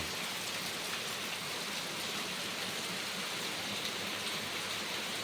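Heavy rain pouring down steadily, a dense even hiss with no other sound, at moderate level.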